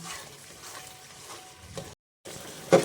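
Dudhi makhandi halwa being stirred continuously in a pan, giving a steady soft scraping and sizzling texture with a brief break and a sharper scrape near the end.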